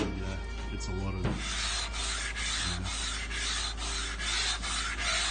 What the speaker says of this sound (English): I'll then go back to the file and then I'll finish it with 80 grit on a hand file